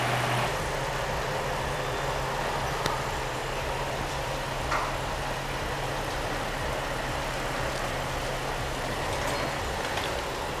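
An Infiniti G35 engine idling steadily after its first start following a chassis swap, a constant low rumble close by with a couple of faint clicks and no talking.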